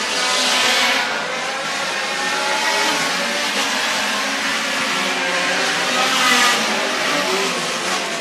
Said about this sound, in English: the 88 car of Joey Kelly right there from Salem, South Carolina